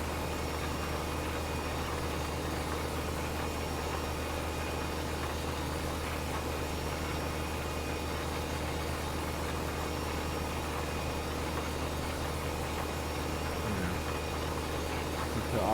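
A tractor engine in Farming Simulator drones at a steady low idle-like hum, constant and unbroken, with a broad mechanical noise bed and no other clear events.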